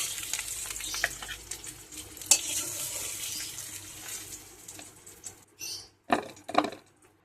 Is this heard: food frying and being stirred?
yes